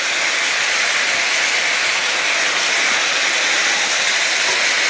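Carrot, pepper and onion go into a hot cooking pot for braised beef and set off a loud, steady sizzle and hiss that lasts throughout, close and continuous, with no talking.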